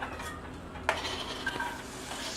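Food sizzling in olive oil in a frying pan, a steady soft hiss with a clink of a utensil against the pan and light stirring scrapes, close and moderately quiet.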